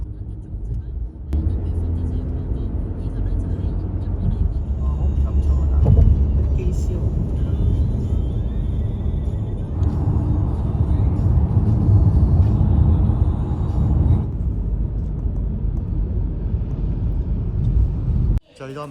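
Steady interior rumble of a car being driven through Hong Kong toward Yuen Long, a continuous low road and engine drone lasting throughout with faint speech-like sounds at times, ending abruptly.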